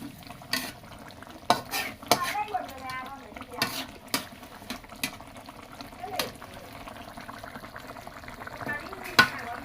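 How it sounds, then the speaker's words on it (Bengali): A spoon stirs watery fish curry of baim eel with radish and tomato just after water goes in, giving scattered sharp scrapes and clinks against the pot over a soft bubbling simmer. "হালকা জল দিয়ে আমরা একটু নেড়ে দিচ্ছি।"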